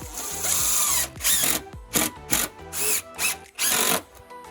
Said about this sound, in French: Et puis là c'est parti, il ne reste plus qu'à percer.